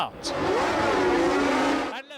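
Formula 1 race cars, Ferrari among them, launch off the grid at the start of the Spanish Grand Prix under scorching sun, a dense blare of engines climbing in pitch for about two seconds, heard beneath a voice.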